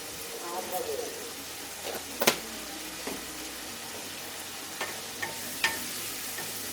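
Spices with a few grains of sugar fry together for mutton kosha, a soft steady sizzle broken by a few sharp scrapes and clinks of the spoon stirring the pan, with a voice talking quietly alongside.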